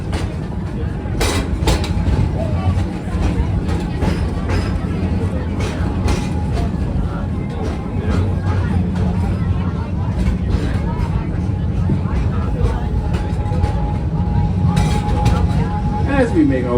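A park train ride at Busch Gardens Tampa Bay rumbles steadily along with a low continuous rolling drone and occasional clanks, while a guide talks over it throughout.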